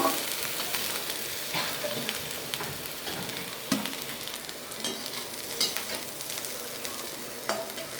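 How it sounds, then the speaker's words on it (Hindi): Drumstick vegetable (sahjan) fries in hot oil in a kadhai, giving a steady, fairly quiet sizzle broken by a few sharp crackles and stirring scrapes, with no voices. "इसे इस तरह से हम फ्राई करेंगे। अब ये फ्राई हो चुका है।"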